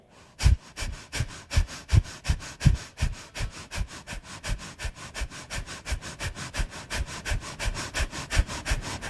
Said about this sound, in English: Now breath of fire here.